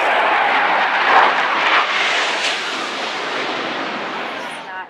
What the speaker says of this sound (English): We have two Russian Su-24s currently conducting multiple passovers, wing clean, continuing to track and monitor